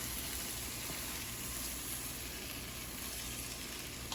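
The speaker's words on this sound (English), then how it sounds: "I'm just going to throw this pasta in here, and then just stir it around in the sauce" Pasta being stirred into sauce in a pan in a townhouse kitchen: a steady, faint sizzle with soft scraping, continuous and even throughout.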